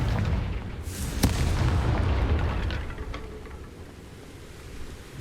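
A Confringo spell explosion in the video game Hogwarts Legacy bursts with a sharp boom, followed by a short rumbling tail that slowly dies away, loud and alone.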